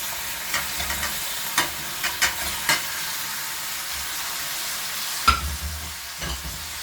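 Fish pieces stirred into a tomato mixture in a pan for a traditional Sri Lankan fish stew, a steady low sizzle broken by several sharp scrapes and clacks of the spoon against the pan.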